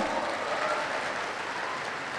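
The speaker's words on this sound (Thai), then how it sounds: "ปรบมือได้ค่ะ" Audience applause in a business-plan lecture hall, a dense, even wash of clapping at moderate level that holds steady without a break.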